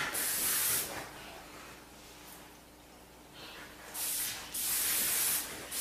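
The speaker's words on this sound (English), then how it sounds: "Just spray it. Because, you know me, I love hairspray." Several short hissing bursts from a hairspray can, with quieter gaps between sprays, close to the microphone.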